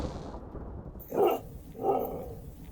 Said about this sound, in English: You silly mutt.